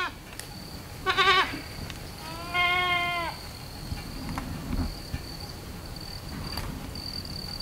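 Kiko goats on a farm bleat in two short bursts, a quick wavering call followed by a longer drawn-out one, heard at moderate distance over a steady background of insect chirring.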